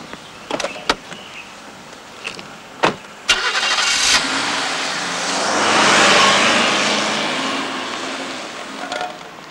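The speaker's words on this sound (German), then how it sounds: "Fahrst du bitte den Wagen bis zum Baum zurück?" After a few sharp clicks and knocks, a car engine starts and the car drives back toward a tree, its steady engine rumble swelling and then easing off, close by and without talk.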